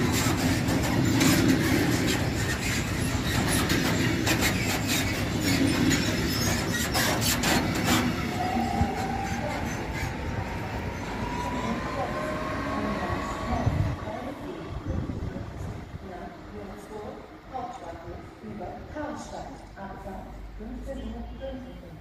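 Trains passing through Gemünden am Main station in Bavaria, a loud rumbling pass-by with rattling wheels and clatter that gradually recedes and quiets, leaving fainter rolling noise.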